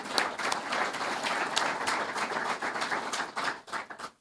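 An audience at a candidates event applauds, dense steady clapping that fills the room and tapers off at the end.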